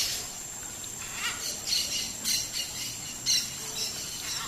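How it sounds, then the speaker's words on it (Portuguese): Several blue-and-yellow macaws, adults with chicks, give harsh squawks and raspy calls in repeated bursts, moderately distant and fairly quiet over a steady hiss of background noise. "umas 6 araras aí, entre filhotes também"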